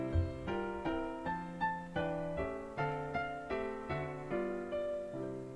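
Guitar playing a 2-5-1 chord progression, each chord struck clearly in a steady rhythm of about ten strums with ringing sustain, close and alone without talk.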